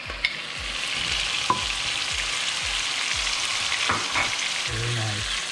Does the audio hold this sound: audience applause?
no